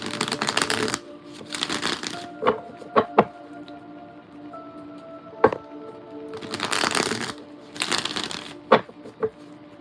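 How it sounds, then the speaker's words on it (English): Tarot cards being shuffled in several riffling bursts, separated by light taps and clicks as the deck is squared, close and fairly quiet. "Let me get a good shuffle."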